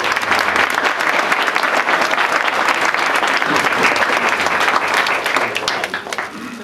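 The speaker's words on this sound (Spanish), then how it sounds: "para quien pido un gran aplauso" An audience applauds at a library inauguration in Madera for León Felipe León Palma, a dense, steady clapping that fills the whole stretch and eases slightly at the end.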